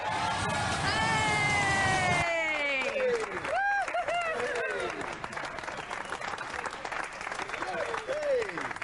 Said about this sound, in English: Ladies and gentlemen, give Cassius 2 a round of applause.